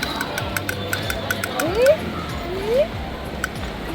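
Cat meows twice in short rising calls, under a second apart, heard outdoors amid people talking and background street noise.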